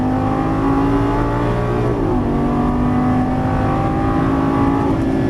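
A Lamborghini Gallardo LP550 pulls out of a turn on a racetrack, its engine droning loud and steady from close by. The pitch dips briefly, then climbs gently as it accelerates, with no voices.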